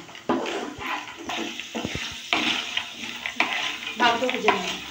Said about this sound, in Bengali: তেলটা গরম হয়ে গেছে, আমি চিনে বাদাম কাঁচা আমি ভেজে নেব।